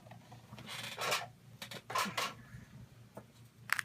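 A Big Shot die-cutting machine is cranked, and its handle winds a card and a framelit die through the rollers with several short, close grinding and rubbing bursts between quiet pauses.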